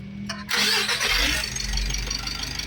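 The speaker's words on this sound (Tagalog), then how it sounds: "napa-start ko na itong makina" A Mitsubishi L300 Euro 4 van engine with a check engine fault starts up: a short starter crank, then the motor catches and settles into a rough idle close by.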